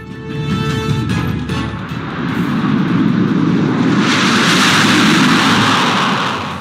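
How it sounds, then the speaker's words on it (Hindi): Six Jaguar jets pass overhead in formation at a Republic Day parade, a loud, steady broadband jet roar that swells gradually and holds strong throughout, with no voices audible. "आकाश में नजरें टिक जाएंगी जब 6 जैगवार विमान बनाएंगे फॉर्मेशन अमृत"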